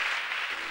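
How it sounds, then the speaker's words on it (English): A church congregation at a preaching service claps for Jesus, a brief wash of applause heard at a moderate distance. "Clap your hands for Jesus."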